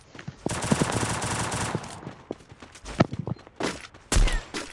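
Machine gun fire from the Free Fire video game rattles in quick bursts with scattered sharp shots and thumps, loud and close.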